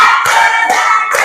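A class of children clapping together in a counting game, a short run of crisp, loud claps spaced evenly and heard close up.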